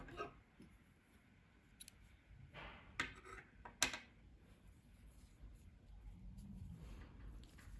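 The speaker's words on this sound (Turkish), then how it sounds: "İpliği kesiyorum." Scissors cutting yarn during crochet work on a baby vest, a few quiet sharp snips and clicks standing out against a soft, hushed background.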